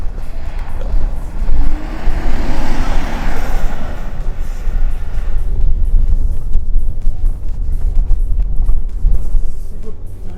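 A Mitsubishi Triton pickup jumps along a narrow rally road. The engine roars loudly and close with heavy rumble and wind, surges, then carries on as a rough, steady drone of tires and chassis noise.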